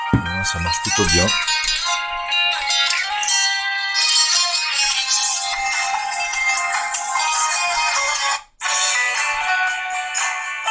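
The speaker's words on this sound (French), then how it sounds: "Sonnerie du téléphone." A LEAGOO T1 Plus smartphone ringtone plays loud and continuous: a bright, busy tinkling melody that runs the whole time, broken once by a brief dropout near the end, with no voices.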